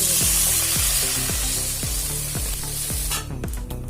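Home-cooked fish curry sizzles loudly in a hot pan as chili powder goes in, with rhythmic stirring knocks about every half second, and the frying fades sharply just before the end.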